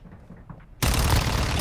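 A Fennec submachine gun in the video game Warzone lets off a dense, continuous rapid-fire burst that starts abruptly after a short quiet moment and holds loud to the end.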